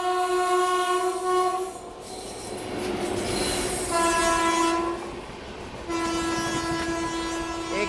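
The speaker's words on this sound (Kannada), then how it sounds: "ಏಕ್ತಾ ನಗರದಿಂದ ರೇವಾಗ್ ಹೋಗುವಂಥ ಮಹಾಮಾನಯ ಸೂಪರ್ ಫಾಸ್ಟ್ ಎಕ್ಸ್ಪ್ರೆಸ್" The Mahamana superfast express, running between Ekta Nagar and Rewa, sounds its horn in three loud, long blasts with short gaps between them, over the steady rumble of rolling rail cars close by.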